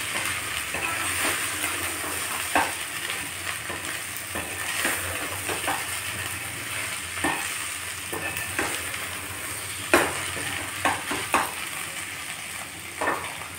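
Okra frying in a pan with salt gives a steady, close sizzle with repeated stirring scrapes and clicks against the pan, alone throughout.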